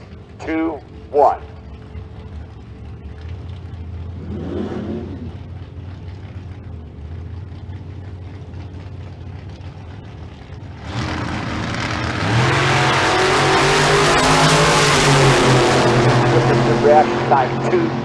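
A junior comp dragster at a drag strip roars down the track, its engine rising from a distant rumble to a loud, sustained blast in the second half, with an announcer talking over the early part.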